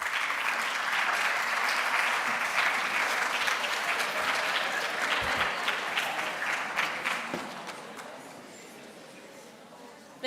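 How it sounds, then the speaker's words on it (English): Applause from an audience at a school debate competition in Johannesburg, a dense, steady clapping that carries on for several seconds and then thins and fades toward the end. "May we give her a round of applause?"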